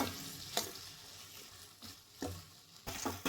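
Drumstick and okra are stirred in a pan while making sambar, with a soft background sizzle and a few distinct scraping stir strokes at intervals, no talking.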